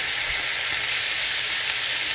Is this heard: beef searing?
yes